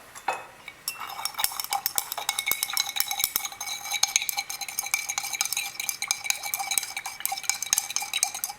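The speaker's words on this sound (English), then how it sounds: "And then we'll mix it up." Salt and water being stirred together in a container during a chemistry lecture demo, giving a steady run of light scraping and clinking strokes that go on throughout, close and fairly quiet, with no voices.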